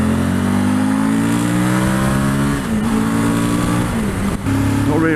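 A motorbike engine, not ridden hard for nearly a year, revs loudly and close, holding a steady drone with brief dips and pitch changes as the throttle shifts.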